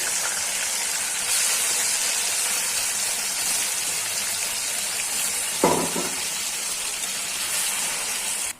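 Steady, close sizzling hiss of chicken frying in hot oil in a pan for a spicy chicken curry, continuous throughout with a brief clatter partway through and no talking.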